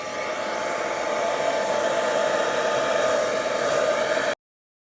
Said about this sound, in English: And then I'm going to blow that out with the hairdryer